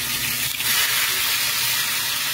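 Dried fish (daing) fries in hot oil, giving a steady broadband sizzle, close and even, with a faint clink near the start and no voices.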